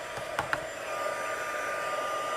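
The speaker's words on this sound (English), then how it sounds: "And then I'm going to use my heat tool. It'll be a little bit of noise for a few minutes." A steady, even blowing roar of a hot-air tool runs throughout, with a few brief clicks or knocks near the start.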